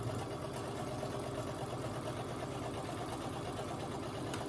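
A sewing machine stitches scrunchie fabric with a steady, fast mechanical whir and rapid needle chatter, running continuously at a low level with no talking.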